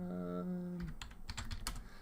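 Quick keystrokes on a computer keyboard type out the ipconfig command, a close burst of about eight crisp clicks following a voice that trails off just before the typing starts.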